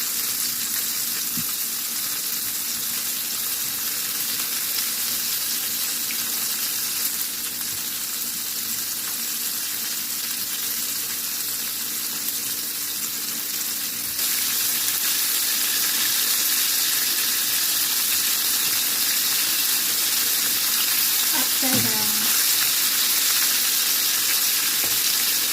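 Steady sizzling of chicken frying in hot oil fills the whole clip, with a brief clink partway through and no talking.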